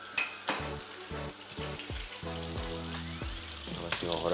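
Butter frying in a pan on a home kitchen stove, a steady crackling sizzle with intermittent clinks and scrapes of a utensil, several short bursts of louder spitting, and faint background voices.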